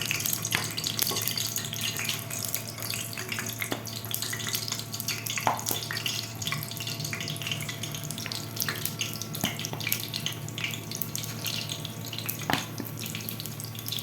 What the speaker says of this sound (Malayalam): ഓയിൽ നന്നായിട്ട് ചൂടായി വന്നിട്ടുണ്ട്. അപ്പോൾ നമ്മൾ നേരത്തെ റെഡിയാക്കി വെച്ചിട്ടുള്ള ഈ ഒരു ഓരോതായിട്ട് ഇങ്ങനെ സ്പൂൺ കൊണ്ട് കോരിയിട്ട് കൊടുക്കാം